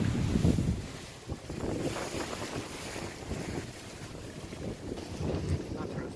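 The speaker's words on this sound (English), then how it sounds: "we're having gusts of wind, about 20 knots gusts" Gusty wind of about 20 knots buffeting a sailboat on a cold coastal passage toward Amelia Island, loud rumbling wind noise on the microphone with surges and lulls and water washing underneath.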